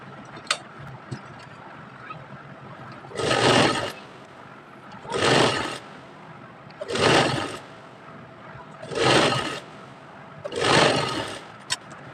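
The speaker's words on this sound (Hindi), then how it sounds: "अब इसके बीचों बीच में भी सिलाई लगा देंगे।" A sewing machine stitching fabric for a baby girl's top and shorts runs in five evenly spaced bursts of rapid whirring, each lasting about a second. Between the bursts there are quiet pauses with faint clicks.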